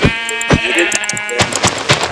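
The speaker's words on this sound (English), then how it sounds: "this other sheep doesn't look scared of this sheep dying" Sheep bleats from Minecraft, a few sharp, loud, close cries in quick succession, with game sound effects around them.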